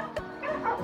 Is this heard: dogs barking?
yes